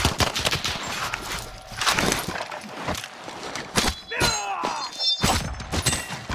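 Rapid gunfire bursts from Call of Duty Warzone squad combat, sharp close shots and volleys crackling in an irregular rhythm, with thuds and a brief shattering impact among them.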